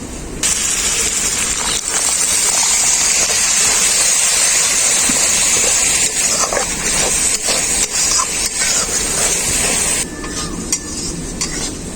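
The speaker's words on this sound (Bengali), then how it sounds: "মশলাটাকে খুব ভালো করে কষানোর জন্য মশলার মধ্যে দিয়ে দেবো অল্প একটু জল" Spice paste for a spicy goat offcut curry fries in a pan after a splash of water is added, a loud hissing sizzle with steady stirring that eases toward the end, with no talking.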